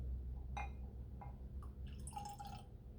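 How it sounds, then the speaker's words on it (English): White muscadine wine trickles into a glass in a few short splashing bursts and then a brief steady pour, heard close over a low background hum. "Let me pour me a little sippy sip."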